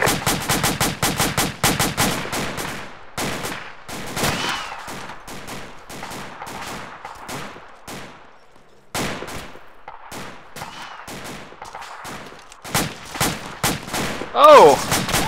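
Automatic weapons fire in rapid bursts in a first-person shooter video game, loud and close, with gaps of quiet between volleys and a final burst at the end.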